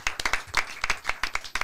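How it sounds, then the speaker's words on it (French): Small group clapping in a French radio studio, a quick burst of sharp, uneven hand claps close to the mic, lasting under two seconds. "On les applaudit sur demain, on bosse."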